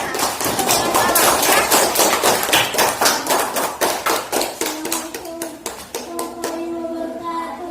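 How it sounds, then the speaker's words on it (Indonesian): Children in a classroom clap for a classmate. The sharp, fairly rhythmic claps are close and loud at first, then thin out into a few scattered claps as young voices begin to talk. "Oke, beri tepuk tangan untuk temannya."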